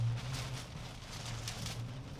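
Rain falls steadily outside a storm-chasing car during a tornado outbreak near Lubbock, Texas, a dense, even hiss of drops with a low rumbling undertone, constant and close throughout.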